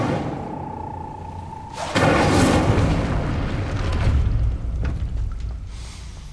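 An Incendio fire spell bursts out in Hogwarts Legacy with a sudden loud whoosh and crackling, roaring blast that sustains for a few seconds before tailing off, following a quieter hum.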